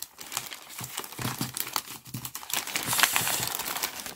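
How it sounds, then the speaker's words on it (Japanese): Plastic bag holding iPhone 11 Pro packaging is pulled open, giving a few seconds of close, steady crinkling and rustling with no talk. "この袋を開けたらもう物が速攻で見える感じに、あのー、梱包されてるんだと思って"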